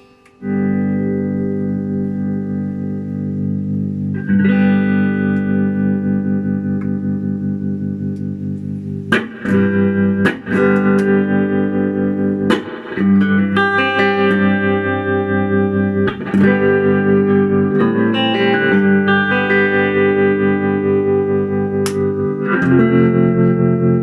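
Electric guitar chords ring out through a vintage silverface Fender Princeton Reverb tube amp, warm and distorted, the sustained notes pulsing with a gentle tremolo wobble and occasional fresh strums.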